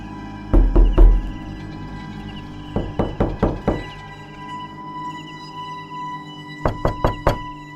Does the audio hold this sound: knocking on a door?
yes